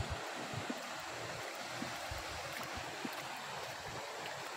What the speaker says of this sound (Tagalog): dito sa kalsada dumadaan ang tubig